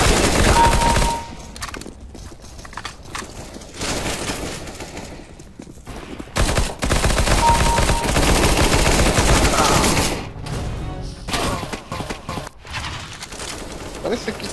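Bursts of enemy gunfire in CS:GO crack loudly and repeatedly in uneven volleys, with a person talking over and between the shots.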